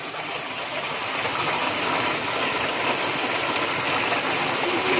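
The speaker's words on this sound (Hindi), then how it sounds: "इतने जबरदस्त, इतने बड़े बड़े ओले गिर रहे हैं" Large hailstones falling hard and steadily, a dense, continuous loud rattle and hiss with no pauses and no talking.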